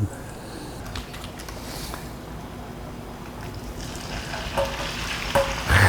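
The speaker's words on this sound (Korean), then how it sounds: "이 지글지글 소리 나죠." Cooking oil sizzles steadily in a hot pan as meat fries, a continuous crackling hiss that grows slightly livelier toward the end.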